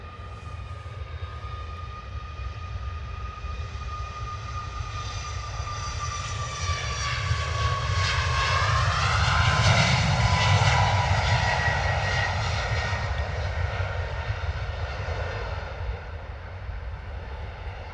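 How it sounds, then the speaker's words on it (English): A Ryanair airliner on a long takeoff roll at London Stansted Airport, its engines roaring loud and steady, swelling to a peak midway as the whine shifts in pitch, then holding a sustained rumble with no voices. "that Ryanair flight must be heavy. That rolled a lot longer on the takeoff roll than I had imagined"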